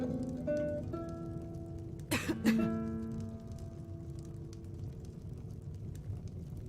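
A character in Skyrim gives a single short cough amid quiet background tones, close and brief, followed by soft ambient hum.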